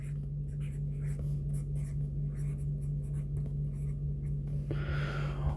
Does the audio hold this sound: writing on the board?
yes